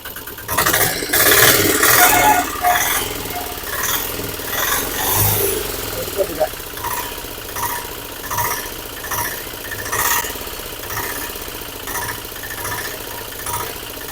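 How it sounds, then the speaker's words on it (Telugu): A Piaggio Ape auto rickshaw engine, just tuned after pump setting, starts with a loud burst and then settles into a steady, rattling idle, nearby and continuous with faint voices in the background. "ఇప్పుడు ఒకసారి మనం బండి స్టార్ట్ చేసి బీడింగ్ ఎలా ఉంటుంది అనేది ఓకే స్టార్ట్ చేద్దాం"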